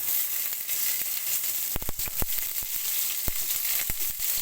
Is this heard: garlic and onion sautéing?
yes